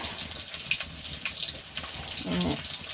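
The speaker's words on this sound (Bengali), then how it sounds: "তো এখন হালকা একটু জল দিয়ে" Water poured from a tap or jug onto raw fish seasoned with salt, turmeric and chili, a steady splashing trickle that swells near the end.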